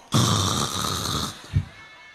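A voice imitates a loud, drawn-out snore for about a second, rasping and nasal, ending in a short snort, close and alone in a quiet room.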